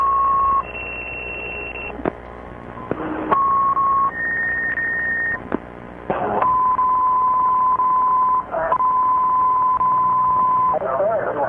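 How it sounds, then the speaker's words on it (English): Automatically generated fire department dispatch alert tones come over a radio: a run of steady, loud, single-pitch beeps held for about a second each, changing pitch step by step, with brief clicks and static between them. "They missed a set of tones. Our tones are generated automatically now."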